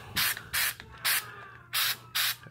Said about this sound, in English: Spray paint that black. Got my spray paint right here.